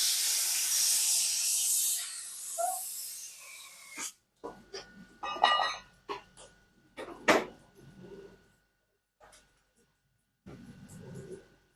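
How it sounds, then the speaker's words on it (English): Air compressor hissing steadily at close range for a few seconds before cutting off, followed by scattered clanks and handling noises in a workshop. "I'll be back in a minute once the air compressor's built its air up."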